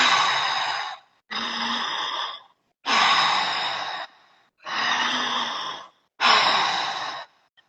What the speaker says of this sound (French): Il faut garder cette respiration connectée jusqu'au bout.